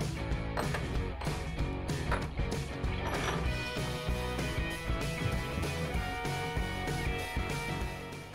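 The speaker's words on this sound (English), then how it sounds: "now it's time to start taking the head bolts out" A ratchet removing cylinder head bolts on an MK2 VW Golf VR6, with a quick, steady mechanical clicking run under a loud layer of background music.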